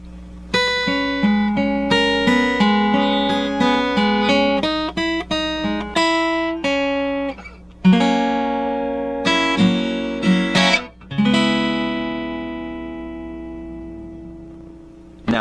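A guitar plays the instrumental interlude of a song, with clear picked notes and strummed chords ringing out one after another, finishing on a sustained chord that fades out.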